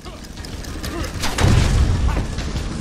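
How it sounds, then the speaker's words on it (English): A bomb blowing up during the Joker boss fight in Batman: Arkham Asylum: a deep, rumbling boom that swells up and holds loud for a couple of seconds. "I can blow the bomb up, okay."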